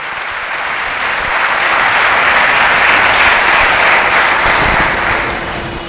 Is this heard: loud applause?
yes